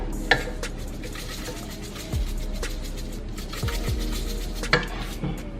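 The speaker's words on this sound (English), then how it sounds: "I'm also gonna go ahead and add my red pepper into this little mixture." A spoon stirs red pepper into a thick seafood mac and cheese mixture, giving soft, steady scraping with a few sharp clinks against the pot, close and moderately loud.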